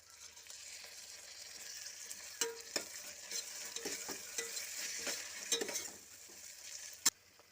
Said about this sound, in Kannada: ಈಗ ಶುಂಠಿ ಬೆಳ್ಳುಳ್ಳಿ ಪೇಸ್ಟ್ ಹಾಕ್ತಿದ್ದೀನಿ.